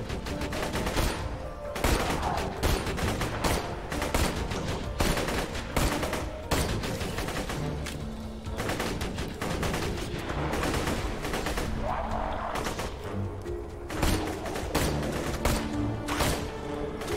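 Rapid gunfire in Borderlands 2, dense bursts of shots and automatic fire crackling almost nonstop, loud and close, with brief booms mixed in.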